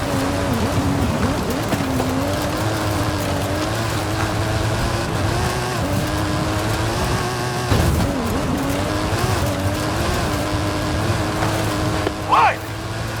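A custom-engined Mike Steel Special stunt car in the Forza Horizon 5 video game drones steadily with a rising and falling engine note under rain-like road noise, while voices talk over it.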